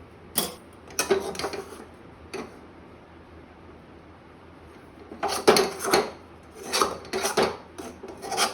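Cooked ragi dough scraped from a pan into a bowl, heard as short, rasping metallic scrapes and clinks in separate bursts, with quiet gaps between them.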